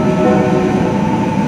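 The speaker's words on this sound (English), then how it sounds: "I now get on a train along to my next destination" Steady, loud rumble and rolling hum from inside a moving passenger train on a Czech rail line, continuous throughout with no voices.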